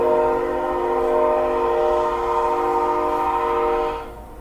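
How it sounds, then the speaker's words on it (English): A passing train holds a long, steady, loud horn blast with rich harmonic tones over a rumbling background, fading out abruptly at the end. "See if we get some more noise from the train."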